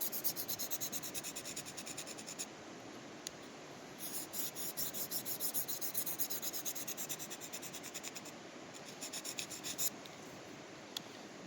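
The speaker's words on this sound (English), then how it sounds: "Depending on the knife that I'm sharpening, sometimes I do sharpen it like this a little bit." A knife blade is drawn repeatedly across a sharpening stone outdoors in the field, a soft steady scraping rasp with rhythmic strokes, faint and close, continuing without voices.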